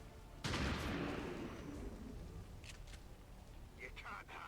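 Gunfire in the video game XCOM 2: a loud burst of shots opens, followed by a sustained rumble and scattered later reports, with a voice talking over the action.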